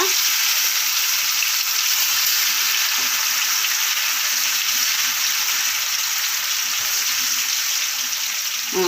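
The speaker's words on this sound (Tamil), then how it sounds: "இப்போ இந்த பக்கம் வந்து நம்ம இப்போ சோயா பீன்ஸை பொறிச்சு எடுத்துடலாம்" Soybeans frying in hot oil, a loud, continuous close sizzle and crackle that holds steady throughout with no talking.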